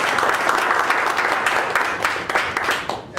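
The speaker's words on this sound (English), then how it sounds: "Can we just give a round of applause for" Audience applause for guests at a talk on closing enterprise deals, a steady, fairly loud roar of many hands clapping together that tapers slightly at the end.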